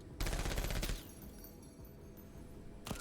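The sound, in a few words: chain gun firing in a video game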